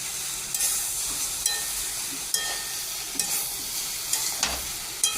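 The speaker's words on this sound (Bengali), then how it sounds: "ঢাকনাটাকে খুলে দিয়ে একটু নেড়ে ছেড়ে নিতে হবে, নেড়ে ছেড়ে নামিয়ে দিতে হবে।" Drumstick leaves frying in a pan, a steady sizzle and crackle with several sharp scrapes of a spoon stirring them, close and fairly loud throughout.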